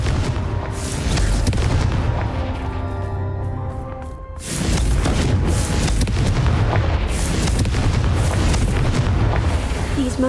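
A Confringo fire spell in Hogwarts Legacy bursting into a heavy, booming blast with a long rumbling tail, repeated as loud explosive roars separated by a brief quieter stretch with ringing tones.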